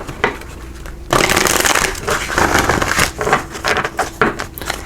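Tarot cards being shuffled by hand for a pick-a-card reading: a steady, close riffling and rustling that runs for several seconds in irregular bursts, with no talk.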